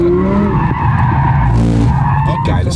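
Audi R8 V10 sliding sideways on a track, tires skidding and squealing loudly over the roaring engine for a few seconds, close and intense.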